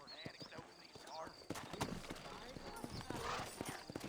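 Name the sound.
horse hooves clip-clop in video game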